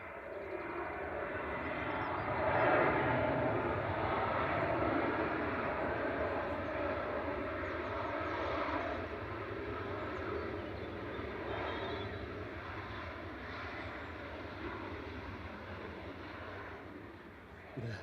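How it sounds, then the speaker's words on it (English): A Ryanair Boeing 737-800 touches down at Manchester Airport, a distant, steady jet engine roar that swells briefly and then slowly fades over eighteen seconds. "Ryanair 558 touching down from Dublin. This is EIDCN, a 737-800."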